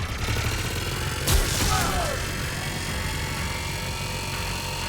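Gunfire and explosions from a combat scene in the video game Mass Effect 3, with a sharp burst around the middle over a dense, constant roar of battle noise.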